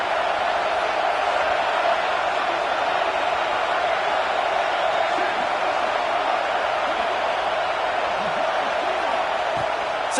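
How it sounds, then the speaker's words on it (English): A steady, dense roar from a stadium crowd in a football video game, unbroken and fairly loud throughout. "This crowd bringing the energy and noise early."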